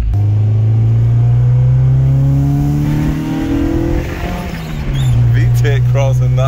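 A Honda H23A engine swap fitted with a 70mm throttle body revs hard through its VTEC crossover, a loud, close droning rumble that rises in pitch, dips briefly, then climbs again, with people talking over it.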